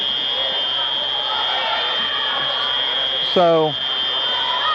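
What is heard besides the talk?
fire alarm going off in a gym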